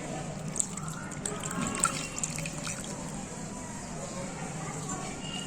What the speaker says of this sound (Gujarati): હવે આમાં થોડું પાણી એડ કરીશું